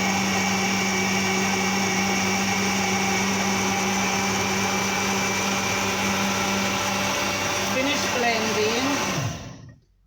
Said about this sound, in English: I'm gonna switch my blender on and I'm gonna start blending